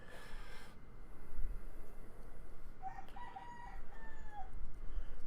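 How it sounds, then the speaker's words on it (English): A rooster crows outside a window, a long loud call followed by a second, more distant crow and clucking, with no talk over it. "There's a chicken outside my window having a shit fit."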